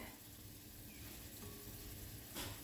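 Beef sautéing and browning in a pan for beef stroganoff, a quiet, steady sizzle with a faint soft scrape near the end.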